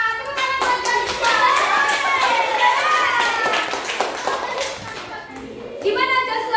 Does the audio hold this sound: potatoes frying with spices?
no